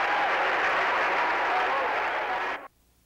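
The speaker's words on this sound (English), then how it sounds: "Listen to these fans, Dan Nish, as they give the Braves a great round of applause." Basketball fans at a Braves game fill the arena with a steady round of applause that cuts off abruptly near the end.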